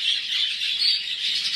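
Harsh, shrill bird squawks repeat close by in a continuous noisy chorus, loud and unbroken for the short span.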